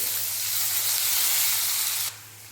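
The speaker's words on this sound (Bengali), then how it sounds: "পেঁয়াজের মধ্যে দিয়ে দেবো লবণ পেঁয়াজটা ভালোভাবে ভেজে নেব" Onion with whole cumin and chopped green chili hitting hot oil in a wok, a loud, steady, close hiss of frying that suddenly drops to a quieter sizzle near the end.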